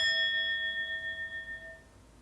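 A single high, clear bell strike with bright ringing overtones that fade away smoothly over about two seconds.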